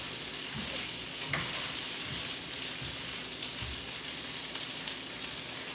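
Food browning in a pan while a pregnancy-craving dish is cooked, giving a steady, close hiss of frying that runs unbroken, with a few soft stirring knocks beneath it.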